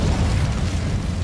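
A short, loud, rumbling fiery burst from the Incendio fire spell in Hogwarts Legacy, a dense low whoosh filling the moment.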